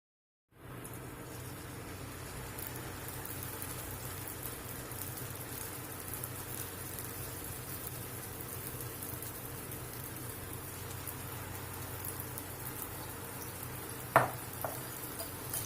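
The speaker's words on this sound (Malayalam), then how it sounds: "മുറിച്ചു വച്ചിരിക്കുന്ന ഓരോ കഷ്ണം പഴമെടുത്ത് മാവിൽ മുക്കി എണ്ണയിലേക്ക് ഇട്ട് കൊടുക്കാം" Battered banana slices for pazham pori dropped into hot, well-heated oil in a pan, giving a steady close sizzle and crackle throughout, with a couple of brief louder pops near the end.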